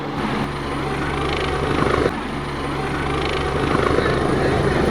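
A helicopter comes down at a football field during a final match, its rotor and engine roaring loud, steady and close for the whole stretch.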